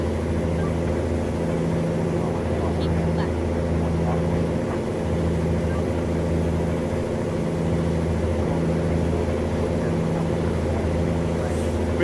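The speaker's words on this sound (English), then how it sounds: "With this 363 differential, you can hear that the engine rev is a little bit higher" A heavy truck engine drones in American Truck Simulator with a 363 differential, a steady low rumble with slightly raised revs that pulses gently throughout while someone talks over it.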